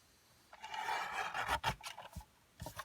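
Excess card being filed off the corners in short rasping strokes, a faint dry scrape followed by a few quick taps and rubs.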